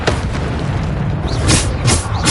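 Bombarda spell explosions in Hogwarts Legacy, loud booming blasts with a couple of sharp bursts landing over a dense, rumbling combat din.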